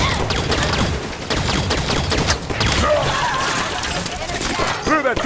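Turret gunfire in the Halo 5 video game rattles out in dense, continuous volleys mixed with sharp cracks and shattering impacts, loud and close throughout.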